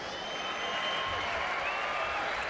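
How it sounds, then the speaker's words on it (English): Broad, steady applause from a rugby sevens crowd at the 1995 Manly v Fiji final, continuous and even throughout, with a faint tonal hum running underneath. "Could you please keep a round of applause going for both sides"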